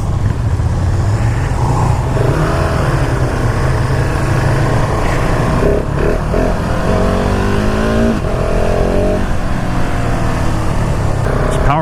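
A 2019 KTM SMC R motorcycle engine pulls hard in first gear, its revs sweeping upward in rising strokes, loud and close throughout under wind noise, with brief speech mixed in.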